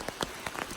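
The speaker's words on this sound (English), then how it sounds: "it started to rain again" Rain falls on an umbrella while hiking the Appalachian Trail, close, uneven patter with a few louder drops striking over a steady wet hiss, no talk.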